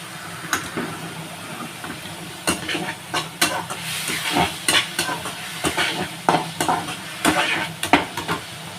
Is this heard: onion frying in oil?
yes